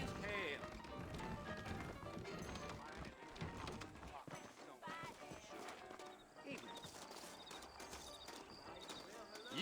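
Saddled horses clip-clopping in Red Dead Redemption, hooves thudding steadily over a busy game soundscape while someone speaks over them, the footfalls moderately close but partly buried under the talk.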